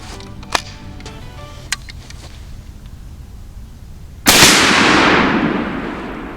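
A Winchester Model 37a single-shot shotgun fires a deer slug outdoors: a few faint clicks and taps, then one loud, sharp blast that rings out and fades over about two seconds.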